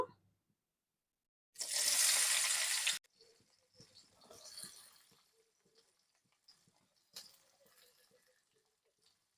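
Chopped, washed onions dropped into oil left from frying eggs, with nigella seeds, set off a loud burst of hissing, then a softer crackling sizzle with occasional stirring clinks and a second brief hiss.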